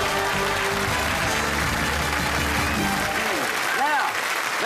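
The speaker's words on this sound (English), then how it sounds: "give him a nice round of applause" Studio audience applause on the TV game show Generation Game, a broad clapping wash with a host's voice and music tones over it, thinning out near the end.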